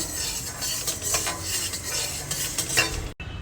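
Horse gram dry roasting in a pan for sambar powder, a steady close crackle and rattle of grains being stirred, with a brief drop to silence near the end.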